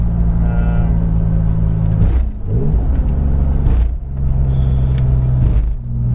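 Turbocharged BMW E36 M3 engine holding a steady loud droning rumble near 3,500 rpm, with brief dips and shifts in tone, heard close from inside the car with no talking.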